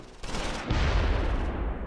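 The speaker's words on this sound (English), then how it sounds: "Van Kamp's light 60mm mortar opens up on the troops and vehicle at Keppershausen." A light 60mm mortar in the game Close Combat 4 fires on troops and a vehicle at Keppershausen, Siegfried Line, December 1944: a sudden loud crump with a rumbling, rolling blast tail, and no talk.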